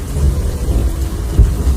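Heavy rain pours down steadily and loudly on a cold riverside, with deep rumbles of thunder rolling beneath it and a stronger low boom near the end.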